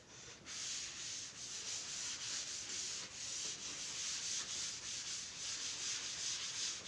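Writing is rubbed off a classroom board with steady, brisk back-and-forth strokes. The scratchy rubbing is soft and continuous, with no speech over it.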